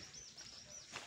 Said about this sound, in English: Can you guys hear the bird scraping?